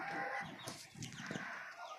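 Chickens and a rooster cluck softly on a poultry farm, with scattered calls over a steady farmyard background and no talking.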